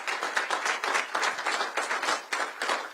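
Applause fills a press briefing on grant-funded opportunity hubs: dense, steady clapping from an audience that swells and dips but keeps going for the full three seconds, with no talking over it.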